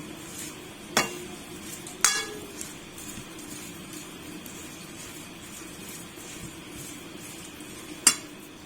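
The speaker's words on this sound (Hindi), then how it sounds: "अब अच्छे से मिक्स करेंगे।" Aloo pakora batter being mixed by hand in a bowl at home, soft wet stirring sounds with a few sharp clinks of a utensil against the bowl, faint and close.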